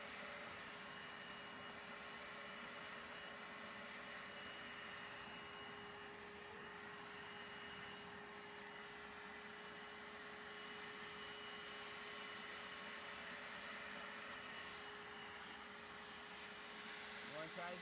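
A Bissell Little Green upholstery cleaner suctions continuously on car upholstery, a steady close motor roar with a constant tonal whine throughout.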